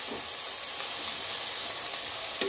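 Water poured into spices frying in hot oil for a Bengali curry, giving a steady, loud broadband sizzle and hiss throughout with a brief stir near the end.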